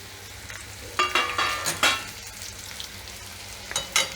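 Sizzling of steamed colocasia leaf rolls added to hot tempering oil with curry leaves and asafoetida, with a few sharp stirring scrapes and crackling bursts, close by, no voices.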